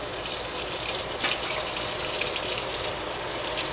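Tap water runs steadily from a faucet while a mullet fish is washed for frying, a loud, continuous gush with brief shifts in flow and no talking.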